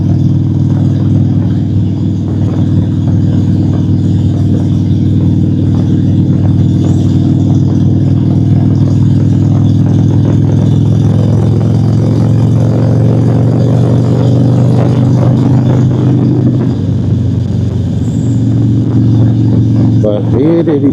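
A Harley-Davidson Sportster 883 fitted with SMS and cycle drag mufflers rumbles loudly and continuously during a late ride. Someone talks over the close engine drone, whose pitch shifts near the end.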